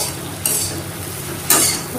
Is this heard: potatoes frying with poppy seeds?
yes